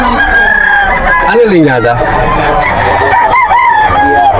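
A young stag rooster at a gamefowl sale crows loudly and close by, a long rising-then-falling call over a busy background with people talking nearby.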